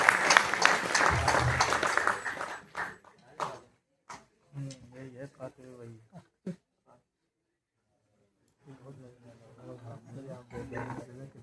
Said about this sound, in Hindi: जोरदार तालियां बजा लें